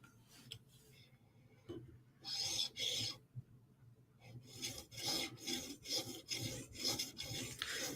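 Chris Reeve Umnumzaan knife blade being stroked across a 5,000 grit polishing stone, giving a series of rhythmic rasping scrapes, faint at first then louder, close and repeated in quick passes.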